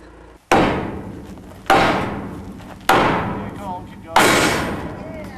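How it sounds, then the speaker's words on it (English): A large hammer strikes metal four times at a slow, uneven pace. Each blow is a loud, close clang that rings and fades away before the next one lands. "A slight gauging issue had to be addressed in the traditional way with a large hammer"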